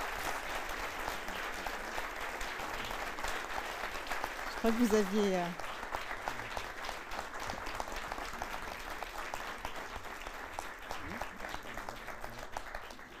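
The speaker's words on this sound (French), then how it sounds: "Merci d'applaudir." Quiet applause from the audience at an evening leadership-circle prize ceremony runs under someone speaking French, with a brief swell midway before settling into a soft, steady patter.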